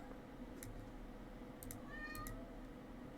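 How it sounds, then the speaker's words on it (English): A cat cries at a door, a few faint, distant meows rising and falling over a steady low room hum, with no voices. "The cat's crying at the door."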